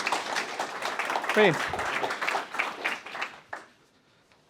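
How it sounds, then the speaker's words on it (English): An audience at an innovation and enterprise launch event gives a speaker a round of applause, a dense clapping that tapers off, while a voice speaks over it briefly. "let's give him a round of applause"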